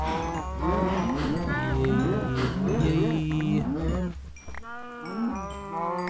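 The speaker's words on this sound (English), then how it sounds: "We're gonna harvest the cows today." Cows in the video game Minecraft moo over and over in a noisy, overlapping chorus, loud and close, while a player's voice briefly cheers.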